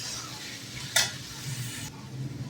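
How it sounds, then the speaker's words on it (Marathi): Chopped onion frying in a pan of oil for pav bhaji gives a steady soft sizzle, with a short sharp hiss and a few light stirring scrapes near the mic; no one speaks. "आता कांदा आपण छान लाल करून घेऊया."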